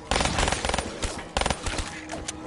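Pistol shots in a zombies shooter game, a quick burst of sharp cracks followed by scattered single shots and clicks, close and fairly loud, with no voices.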